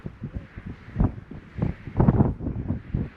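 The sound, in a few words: wind blowing into microphone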